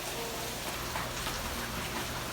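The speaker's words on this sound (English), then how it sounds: "And this is a downpour." A heavy Key West, Florida downpour hisses in a steady, dense wash of rain pounding surfaces, close and constant with no voices.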